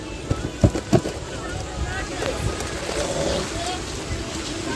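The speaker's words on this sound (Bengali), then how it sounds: "এত হাওয়া এত জোরে বৃষ্টি দিচ্ছে" Strong wind roars in a steady broadband rush with heavy rain, a few sharp thumps near the start, no clear voices.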